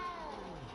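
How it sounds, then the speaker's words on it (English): A small cat gives a single short meow in Hogwarts Legacy, fairly close and alone over a soft ambient background. "You don't need to be frightened, little cat."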